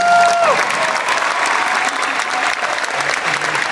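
Steady audience applause fills the whole clip, dense and sustained, with a brief whistle-like tone near the start.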